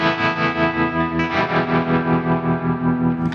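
Electric guitar played through a tremolo effect on a Fractal AX8 preset, sustained distorted chords pulsing in a steady rhythmic swell with some reverb and no talking.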